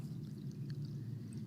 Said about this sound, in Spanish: Entonces le vamos a poner agua